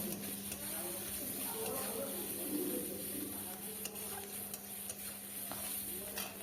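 Onions frying in a pan with salt and turmeric, a faint continuous sizzle with scattered scraping taps of a spatula stirring, and soft talk in the background.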